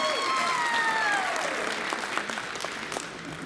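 A high school auditorium audience applauding during curtain calls for a Beauty and the Beast play, dense sustained clapping from a large crowd at full volume that starts to thin toward the end, with faint cheers mixed in.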